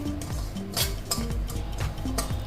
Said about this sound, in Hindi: अब मैं इसको सूजी को भून लेती हूँ।